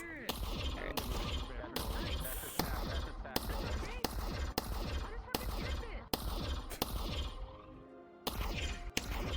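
Rapid bursts of virtual gunfire in a VRChat roleplay game, sharp repeated shots at irregular intervals with clattering impacts, loud and close amid busy game noise.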